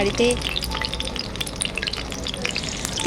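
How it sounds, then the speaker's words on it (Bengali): Snacks frying in hot oil in a home kitchen, a steady crackling sizzle with light stirring clatter running throughout. "আর এগুলো আমি বাড়িতে ভাজা দিচ্ছিলাম তাদেরকে দেবো বলে"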